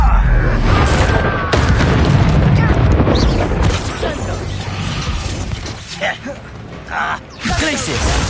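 Confringo blasting spell exploding in Hogwarts Legacy on PS5, heavy booms and crashing impacts piled into dense, loud game combat noise with voices shouting over it.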